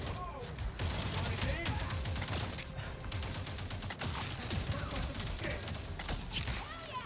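Dense bursts of gunfire in the video game Avatar: Frontiers of Pandora, rapid shots and clattering volleys firing in quick clusters throughout, with crashing impacts mixed in during a chaotic battle.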